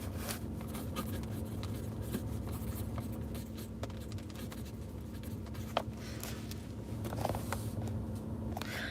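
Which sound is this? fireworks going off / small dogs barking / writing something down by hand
writing something down by hand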